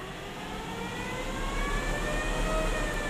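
A converted electric BMW accelerates hard through the gears, its steady rising motor whine and road roar building continuously and loudly with no pauses or voices.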